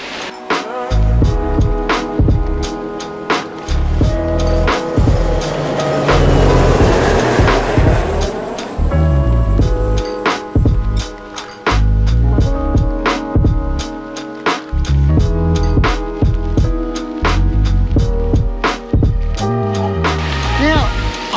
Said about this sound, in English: I've just come out of the Busan Metro here at Junggang Station.